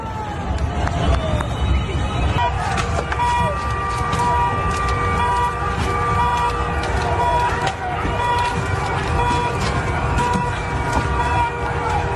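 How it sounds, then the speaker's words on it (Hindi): A siren wails continuously over loud, dense street noise and a crowd during street unrest in Iran, with voices shouting and talking throughout. "हर तरफ सायरन की आवाज"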